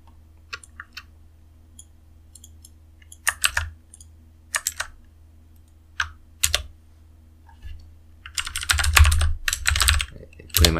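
Keys are typed on a computer keyboard to enter commands and a password, close and clear. Scattered single clicks and short runs of keystrokes build to a brisk burst of steady typing near the end.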